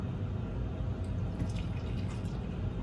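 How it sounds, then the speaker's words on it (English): Hot chocolate poured carefully into a coffee mug, a steady close trickle with faint dripping, continuous and moderately quiet. "very, very carefully go ahead and pour that into your coffee mug"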